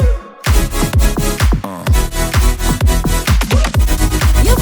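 EDM beat from a music production in playback, with a punchy kick hitting on a steady four-on-the-floor pulse under layered synths, loud and continuous after a brief gap at the start.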